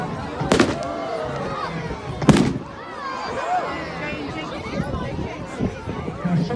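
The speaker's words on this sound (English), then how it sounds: "some of those fireworks do cost hundreds" Bonfire night fireworks at Hoylake, with two loud, sharp bursts early on followed by crackling and fizzing, a crowd murmuring and voices talking throughout.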